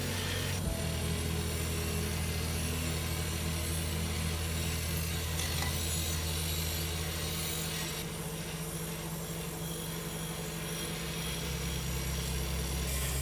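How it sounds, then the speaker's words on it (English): A high-power wire wheel scrubs crusty rust off the main body of an old rusted potato cutter, a continuous loud rasping, scouring roar that shifts in tone as the brush is pressed and moved across the metal. "I start using a high-power wire wheel to brush away the rough, crusty layers of rust clinging to the main body."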